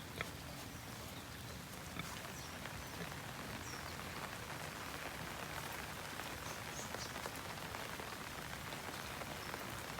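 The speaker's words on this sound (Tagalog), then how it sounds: "dahil maulan po ang panahon" Steady rain patters on a surface outdoors, a faint, even wash of drops with no voices.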